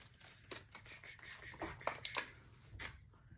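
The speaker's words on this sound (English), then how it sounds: "I need to keep scissors up here." Scissors are handled close to the microphone, a quiet series of scratchy clicks and rustles at an uneven pace.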